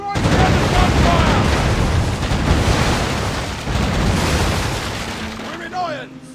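Cannon gunfire from a pirate ship battle in the game The Pirate: Plague of the Dead, a dense, loud barrage of booming blasts rolling continuously with brief lulls, under shouted game voices.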